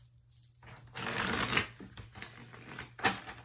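A deck of cards being shuffled by hand at close range, a run of soft riffling rustles and papery flicks with brief pauses in between, no talk heard over it.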